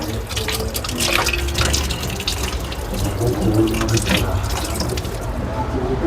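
Tap water runs steadily into a lab sink as an egg membrane is rinsed under it, a close continuous splashing stream with some dripping. Faint voices sit under the water.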